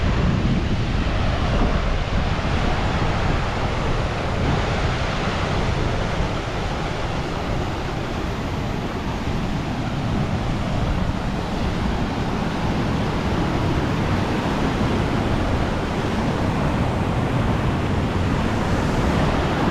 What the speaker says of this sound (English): The glacier melting, making way for the river.